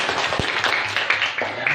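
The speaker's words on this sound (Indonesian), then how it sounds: "Tepuk tangan untuk semuanya." A classroom of pupils applauds together at the end of a lesson on class agreements, a steady dense patter of many hands clapping at moderate loudness throughout.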